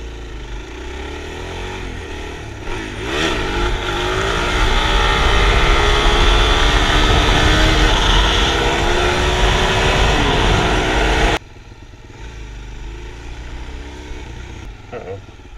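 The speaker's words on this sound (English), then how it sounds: "I'm gonna do a wheelie, I think." Motorcycle engine revving hard and loud during a wheelie, a sustained rising roar with wind rush, dropping abruptly to a lower idle-like drone near the end.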